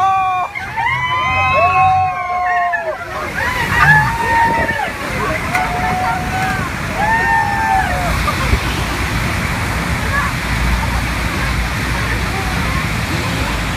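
Roaring, rushing water of the Rhine Falls, Europe's largest waterfall, fills the whole clip as a loud steady wash, with excited voices and whoops over it near the start.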